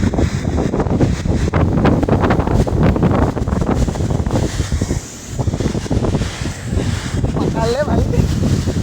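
Strong storm wind roars continuously into the microphone in a village during a heavy rainstorm, buffeting and gusting throughout, with people talking underneath.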